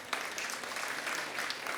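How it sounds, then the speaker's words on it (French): Applause from an audience at a fitness and bodybuilding talk show, a steady wash of clapping that holds at even loudness for a couple of seconds. "Vous pouvez l'applaudir assez"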